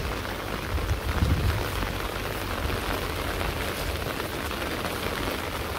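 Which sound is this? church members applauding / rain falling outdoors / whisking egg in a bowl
rain falling outdoors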